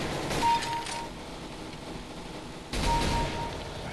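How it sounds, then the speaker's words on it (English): Two gunshots in the video game CS:GO, sharp reports about two seconds apart, each with a short mechanical tail. "Bam! Two long range shots."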